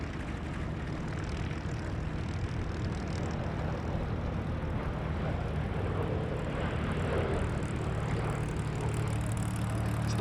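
Four Pratt & Whitney piston engines on the last airworthy DC-6 airliner in Europe, flying past at an airshow, drone as a steady, loud, continuous propeller roar throughout with no talking.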